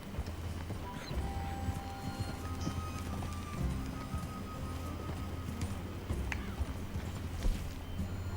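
Horse hooves clip-clop on the ground in an uneven walking rhythm in the video game Red Dead Redemption 2, close by, with faint background ambience and brief distant sounds.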